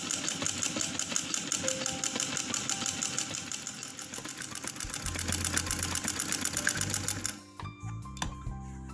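A sewing machine with a thread problem runs in a fast, steady mechanical chatter of repeated needle strokes, close and continuous, shifting to a rougher, uneven rattle near the end before stopping.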